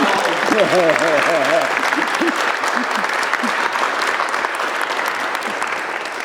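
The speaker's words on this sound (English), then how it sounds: "I have to give applause to Katrina and Sean" A screening Q&A audience applauds the actors of a short film, with a dense, steady round of clapping while voices and laughter break through early on, then the applause continues evenly.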